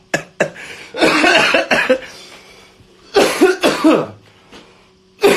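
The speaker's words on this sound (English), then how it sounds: "Why does the laughing trigger the cough?" A person coughs in close, loud fits, first a couple of sharp single coughs, then a sustained hacking burst, then another cluster of rough coughs, with near silence between.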